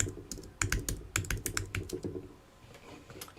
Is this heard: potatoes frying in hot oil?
no